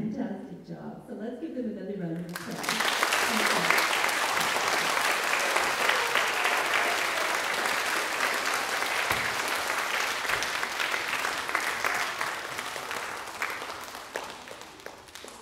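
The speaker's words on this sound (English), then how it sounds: "let's give them another round of applause." An audience applauds after a school handbell concert, with a voice speaking briefly at the start before loud, sustained clapping fills the room and carries on evenly to the end.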